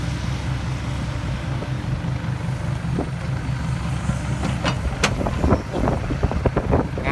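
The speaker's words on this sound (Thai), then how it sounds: "ลมแรงมากวันนี้" Strong wind buffets the microphone outdoors beside a smoky fish pond, a steady low roar with a few sharper gusts and knocks near the end; no talking.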